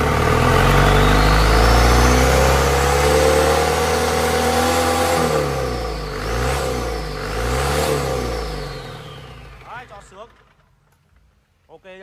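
A Yuchai 120-30 truck engine revs hard on the throttle, its loud roar climbing and falling in repeated sweeps before cutting off to near silence. Brief voices are heard near the end.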